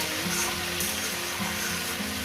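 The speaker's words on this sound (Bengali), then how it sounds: "এরপর ওই তেলে দিয়ে দেবো শুকনো লঙ্কা সর্ষে দিয়ে দিলাম এবার একটু কয়েক সেকেন্ড একটু ভেজে নেব" Dried red chillies and mustard seeds crackle and sizzle in hot oil as tempering for a Bengali prawn chorchori with taro and spinach, a steady close hiss with a faint tonal background and no talking.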